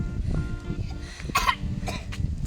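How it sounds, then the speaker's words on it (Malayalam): A few short, rough coughs from a person outdoors at a hill church festival in the cold, heard close against faint background chatter. "ചുമ"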